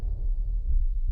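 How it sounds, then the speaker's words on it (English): A deep, bassy heartbeat throbs steadily and up close, with a continuous low rumble and no speech. "It was just a heartbeat."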